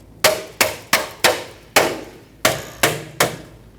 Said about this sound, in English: take a rubber mallet.